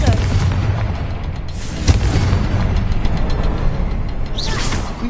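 A Confringo fire spell blasts in the Hogwarts Legacy game, heard as a loud, continuous booming rumble with a sharper burst near the two-second mark, all under dense game noise.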